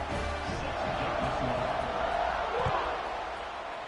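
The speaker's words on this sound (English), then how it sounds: "this crowd is buzzing after that last score" Crowd noise from a football video game, NCAA 26: a steady, dense murmur of stadium spectators after a score, with commentary talk over it.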